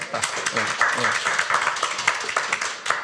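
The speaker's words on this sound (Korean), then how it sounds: "우리 박수 한번 해요." Church congregation clapping during a sermon, a brisk patter of hand claps from many people with a voice talking over it.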